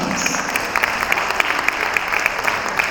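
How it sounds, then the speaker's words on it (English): Dense audience applause at a school event honouring parents, a loud steady roar of many hands with sharper individual claps popping out near the front. "You deserve a very big round of applause."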